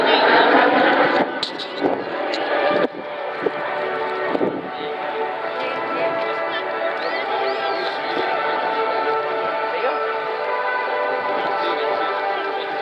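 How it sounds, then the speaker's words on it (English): A MiG-15 jet flies past at the Southport Air Show, heard as a steady, distant engine roar with wind buffeting, and a commentator talks over it. "It's certainly Northern Europe's only flying MiG-15, and thus always a very, very rare appearance indeed."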